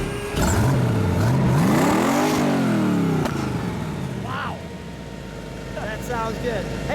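A 2009 Brimstone Quadracycle engine revs up loud and close, climbing in pitch then falling back to a steady idle, with a voice speaking briefly near the end.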